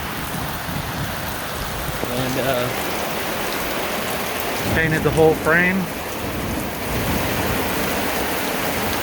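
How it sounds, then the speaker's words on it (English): Steady rain falls outside a garage during a 1998 Ford Ranger rebuild, a constant close hiss that runs throughout while someone speaks briefly over it. "Away from the rain for a minute."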